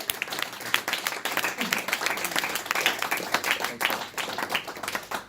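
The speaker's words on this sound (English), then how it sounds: "Give him a massive round of applause." An audience claps and applauds at a talk, a dense crackle of many hands holding steady for several seconds, with voices mixed in underneath.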